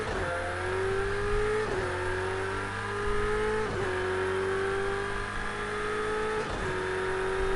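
A Ferrari race car in the racing video game Project CARS 2 revs hard and steadily, its engine note climbing and dropping with gear shifts every couple of seconds, loud and close throughout.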